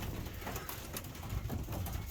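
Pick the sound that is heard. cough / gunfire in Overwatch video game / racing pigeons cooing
racing pigeons cooing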